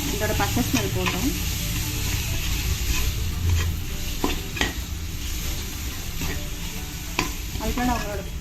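Ginger garlic paste and a green chili sizzle and fry in a hot pan for a mutton biryani, a steady close crackle with several stirring scrapes of a utensil against the pan.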